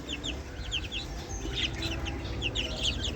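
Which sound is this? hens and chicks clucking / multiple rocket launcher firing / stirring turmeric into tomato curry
hens and chicks clucking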